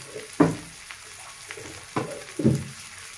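Chicken leg masala frying in a pan as water goes in, giving bursts of hissing sizzle, a few spoon scrapes and a steady low bubbling between them.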